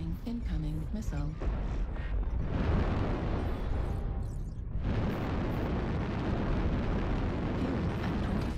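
A missile explosion in a video game rolls in as a deep, sustained roar after a short stretch of game tones and speech, briefly thins out, then surges back into a continuous rumbling blast.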